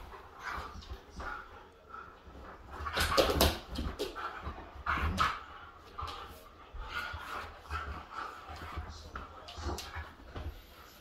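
Huskies play-fight on an indoor couch, giving close, busy bursts of growls, yips, whimpers and panting, with scuffling and several louder peaks.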